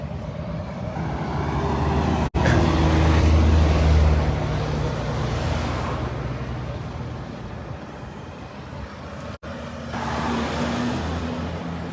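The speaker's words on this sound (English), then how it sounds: "that sounds like an electric car" An electric car passes along a road outside the walls of Jerusalem near the Dung Gate, a steady broadband road rush that swells and fades over about twelve seconds amid city traffic noise, with no talk.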